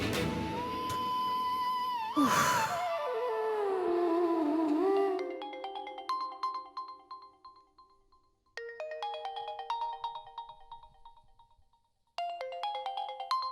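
A mobile phone ringtone plays a repeating electronic melody, clear and close, cycling in separate bursts with short pauses between phrases and no one speaking over it.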